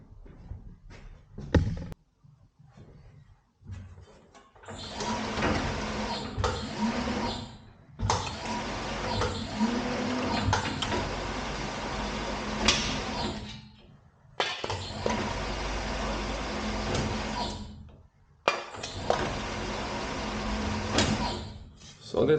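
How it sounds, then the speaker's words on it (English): A plate rounding machine rolls half of a metal pipe in a workshop, with long loud grinding passes separated by short pauses and clanks, and a voice speaking between them. "We go to the rounding machine."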